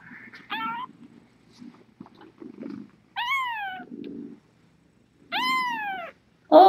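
Small kitten squeaks in a few short, high-pitched bursts with rising and falling tones, close and clear, separated by quiet gaps with faint low rustling and handling noise between them.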